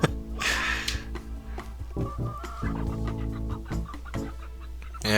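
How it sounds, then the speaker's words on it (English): Several backyard pet chickens cluck busily at their coop, overlapping calls rising and falling in a lively, close chatter over a low steady hum, with no voices. "The chickens clucked with extra enthusiasm when they saw that I had company."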